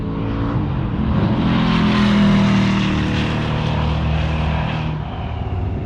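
A 1967 Ford Mustang road-race car lapping Buttonwillow raceway, its engine a loud, steady, close drone that rises slightly mid-lap, then eases and picks back up.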